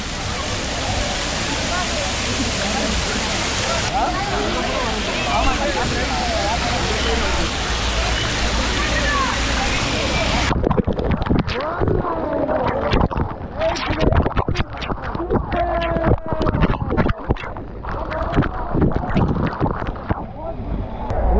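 A water ride at MGM Dizzee World theme park: loud rushing, splashing water fills the first half, then gives way to scattered splashes and drips with people's voices nearby.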